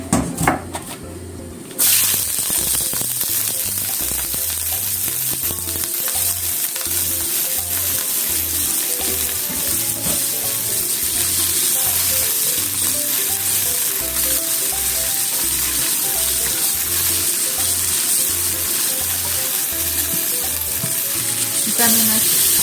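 Burdock root stir-frying in a pan for kinpira gobo, a loud continuous sizzle with steady rhythmic scraping and tossing of the utensil throughout, no talking.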